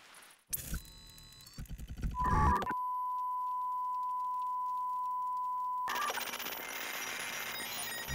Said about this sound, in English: let's go find our forest phone and talk to Jeff.